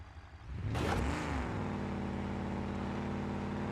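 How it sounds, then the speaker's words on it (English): Engine starting in the driving simulator BeamNG.drive: a sharp burst of cranking and catch, then a steady, loud idle hum that settles and holds close up without any talk. "I will start the engine of oil though."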